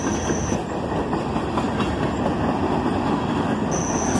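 A CSX freight train passes close by on a Sunday morning, filling the air with a steady, loud rumble and wheel clatter that holds for the whole stretch with no voices.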